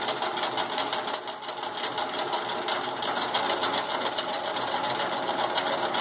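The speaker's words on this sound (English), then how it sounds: "Now we're going to sew pretty much all the way to the bottom." A sewing machine runs continuously at a moderate speed, stitching fabric along the edge of the presser foot, with a close, steady, rapid mechanical whirring and no talking.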